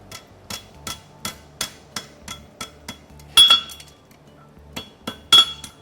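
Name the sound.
hammering a Mustad LiBero horseshoe clip over the anvil horn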